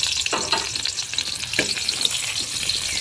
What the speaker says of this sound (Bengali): রসুন আর কাঁচা লঙ্কা কিছুক্ষণ ভেজে নিলাম